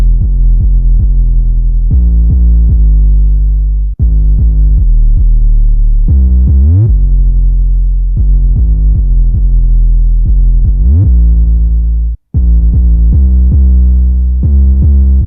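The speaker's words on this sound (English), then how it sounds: "And now we got the 808 for the beat." Deep, booming 808 bass in a type beat plays a rhythmic pattern of sustained tones, some sliding in pitch, loud and isolated with no other instruments.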